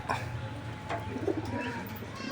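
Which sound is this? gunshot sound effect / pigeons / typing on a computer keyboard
pigeons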